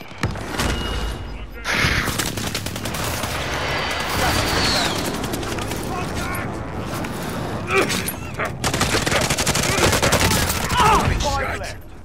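Video game gunfire in a Battlegrounds-style match, with rapid bursts and single shots cracking near and far, almost continuous over the span, while players talk over the shooting.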